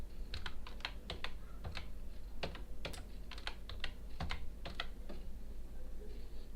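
A password is typed on a computer keyboard, with bursts of crisp, close key clicks coming in irregular clusters and short pauses between them.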